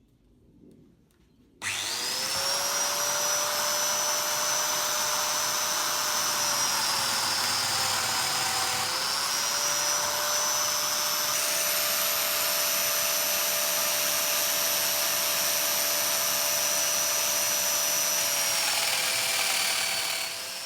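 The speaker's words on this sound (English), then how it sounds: "My first time ever using a domino." A Festool Domino joiner cutting mortises in reclaimed wood for mitered end-table legs, a steady high motor whine with dust extraction roar that starts abruptly and runs continuously, close and loud, no talking.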